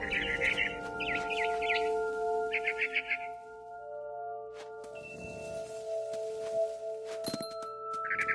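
A barn swallow in What Remains of Edith Finch chirps in quick bursts of high, twittering calls over a steady game ambience, followed by a few soft thunks and clinks.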